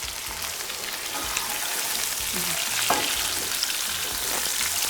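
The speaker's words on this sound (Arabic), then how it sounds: "في التقليه تاع الدجاج انا نبغي نزيد معاهم القرفه والكبابه" Chicken pieces fry in a pan with cinnamon and cubeb, a steady loud sizzle with occasional stirring scrapes close by.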